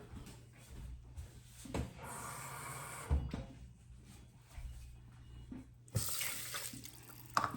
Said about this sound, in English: So I'm going to add a little bit of water to make that up to a cup.